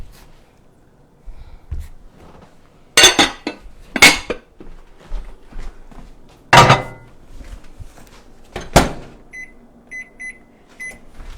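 Pots, pans and dishes clattering in a home kitchen near a microwave while meatballs and rice are prepared, several sharp metallic clanks and rattles spaced irregularly, close and loud, followed by faint beeps.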